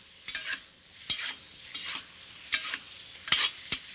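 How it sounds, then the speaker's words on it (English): Shrimp seasoned with cayenne salt stir-fry in hot oil in a wok, a steady sizzle broken by several sharp bursts of tossing and scraping, close and fairly loud, with no voices. "what we're going to do is just sort of wok fry real quick these wonderful shrimp that have the cayenne salt"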